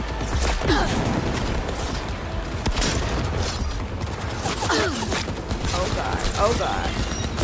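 Gunfire in the Cyberpunk 2077 Phantom Liberty DLC, a dense, steady volley of shots and impacts running the whole time, with a brief exclaimed word from a voice.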